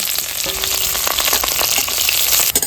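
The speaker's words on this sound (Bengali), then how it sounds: "এই তেলের ভিতরেই তেজপাতাটা দিয়ে দিচ্ছি এই জিরাটা ফোড়ন দিয়ে দিচ্ছি এবার পেঁয়াজটা দিয়ে দিচ্ছি" Chopped onion dropped into hot oil with bay leaf and cumin seeds sizzles loudly and steadily at close range, a dense crackling fry in a home kitchen with no talk.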